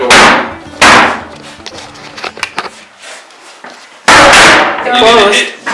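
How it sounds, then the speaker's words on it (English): Hammer blows striking a door during bathroom demolition, three loud sharp bangs with an irregular gap, with smaller knocks and clatter in between and voices talking. "Why don't you try to knock off that door?"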